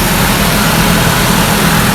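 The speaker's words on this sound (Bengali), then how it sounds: "তো এখন আমি আবার স্টার্ট দিতেছি।" The QR25 engine of a 2015 Nissan Urvan runs with a loud, close, steady droning hum, unbroken for two seconds.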